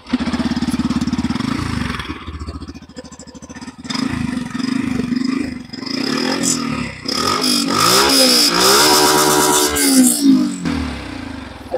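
A Yamaha FZS Hybrid motorcycle, about six weeks old, is started and idles close by, then is revved in several rising and falling bursts that grow louder toward the end.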